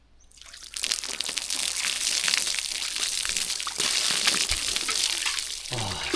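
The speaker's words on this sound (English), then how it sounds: "Time for a bucket shower." Water poured from a bucket over a person for a bucket shower out in the Australian wilderness, a steady close rush and splash that runs for several seconds before tapering off near the end.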